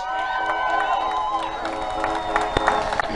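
A crowd at a live comedy show cheers and applauds, a dense wash of clapping mixed with whoops and voices, with a few sharper claps standing out near the end.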